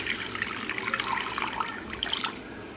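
Water pours into a pan of fried koi fish, a bright splashing rush that runs steadily for about two seconds and then stops abruptly, with no talking.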